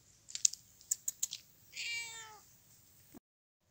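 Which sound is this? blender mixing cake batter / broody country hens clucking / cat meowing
cat meowing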